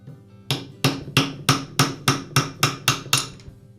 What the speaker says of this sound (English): using a rubber mallet, I'll tap the armature shaft away from the bearing